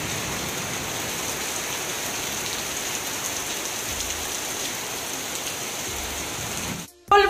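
Steady evening rain falls outdoors near mango trees and a road, a dense even hiss that runs unbroken before a sudden cut and a brief louder noise at the end.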